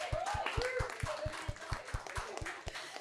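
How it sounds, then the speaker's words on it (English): Steady, rhythmic clapping from a panel discussion audience, a run of sharp evenly spaced claps lasting a few seconds with some voices and chatter mixed underneath. "Please give him a round of applause."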